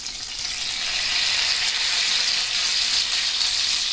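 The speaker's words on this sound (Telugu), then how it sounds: "మెంతులు కొంచెం ఫ్రై అయిన తర్వాత ఒక 3-4 వెల్లుల్లి వేసి ఫ్రై చేసుకోవాలి." Garlic cloves and curry leaves fry in hot oil in a pan, having just gone in after fenugreek seeds, giving a steady, close, bright sizzle that holds at an even level throughout with no talking.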